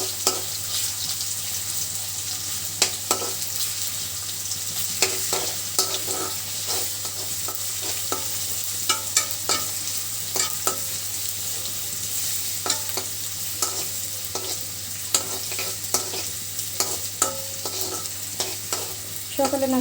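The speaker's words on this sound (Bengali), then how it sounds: "পেঁয়াজটা খুব সুন্দর করে ভাজি করে নেব।" Chopped onion frying in a pan, a continuous bright sizzle broken by frequent rhythmic spatula scrapes and taps, close and steady throughout.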